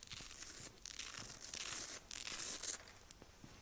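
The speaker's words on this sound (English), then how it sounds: "What are you, stripping off Velcro?" Velcro ripped off in long tearing strokes, a few bursts close by over about four seconds during a Bad Company squad game session.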